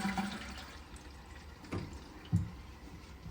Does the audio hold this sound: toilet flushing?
yes